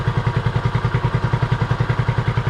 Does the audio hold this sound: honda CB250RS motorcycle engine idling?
yes